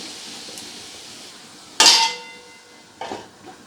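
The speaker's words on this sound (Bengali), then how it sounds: "এবারে খুব ভালো করে কিছুক্ষণ এটাকে ফুটিয়ে নেব ঢাকা দিয়ে।" A single sharp metallic clang as a lid drops onto a pot of simmering dried fish, followed by a softer rattle a moment later, close and clear.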